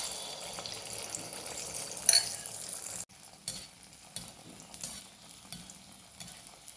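Neyyappam, a sweet fritter, sizzling in hot oil in a pan: a steady close crackle and hiss throughout, with a brief clatter of a utensil partway through.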